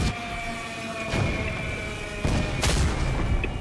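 In The Division 2, gunfire crackles through the Iron Horse raid, and a few loud boomy blasts that could be an RPG rocket going off stand out above it.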